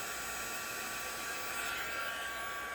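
A heat gun blows hot air over a drying craft piece, a steady, close, even rushing whoosh that holds unbroken for a few seconds with no voices.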